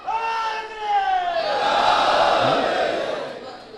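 A crowd at a religious majlis gathering in Jogipura, India, chants a slogan in unison, loud and sustained. Voices rise and hold together for several seconds before fading slightly.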